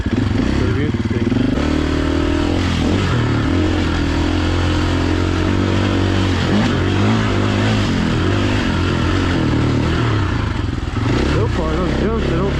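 Dirt bike ridden along a single track trail, its engine continuously loud and close, revving up and down with clattering over bumps and jumps throughout.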